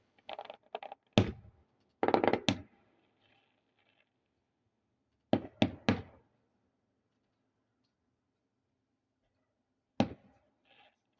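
Fireworks booming at a distance during a neighborhood display, heard as scattered dull thumps in small clusters separated by quiet gaps, with soft crackles trailing some bursts.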